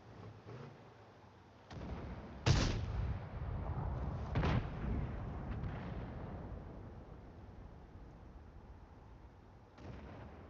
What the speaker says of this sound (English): Definitely that was a Hellcat shooting.